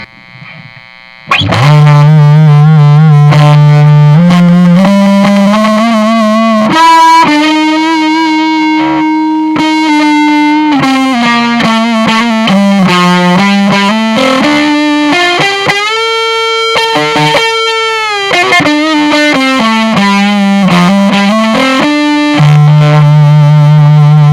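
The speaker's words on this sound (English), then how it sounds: "kind of like a fuzz face or a Boss fuzz pedal, that like kind of sine wave" Sustained distorted electric guitar through a Vox Pathfinder 15R amp's fuzz setting, with a smooth, sine-like fuzz tone playing a melodic line, loud and continuous, no talking.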